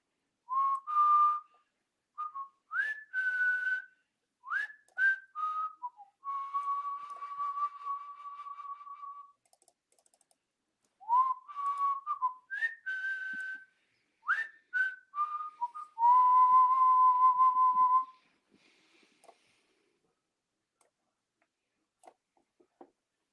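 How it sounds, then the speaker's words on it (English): A person whistles a clear melodic phrase twice, with rising slides, short chirps and a long held tone in each pass, alone with silence around it. "Y'all know when that whistle drop, y'all know what it's hitting for."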